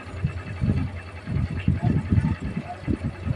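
Honda Civic 125 motorcycle engine idling with a worn connecting rod, giving a steady rhythmic knocking pulse up close, with people talking over it.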